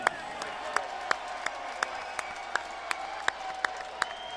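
Arena crowd applauds a heavyweight boxer's ring introduction for Mike Tyson's exhibition bout, sharp claps and pops recurring at a steady, almost rhythmic pace over a continuous murmuring crowd din.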